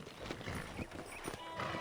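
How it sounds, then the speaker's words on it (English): A horse's hooves clip-clop steadily at a walk in the Western video game Red Dead Redemption, a moderate, continuous clopping with a hint of a whinny over faint background ambience. "I picked out a fine horse for you."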